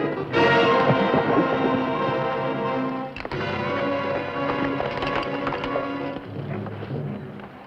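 Horses' hooves clatter in a dramatized Western radio-style scene of riders bringing their horses to water, quick running beats layered under orchestral music and effects, loud and close.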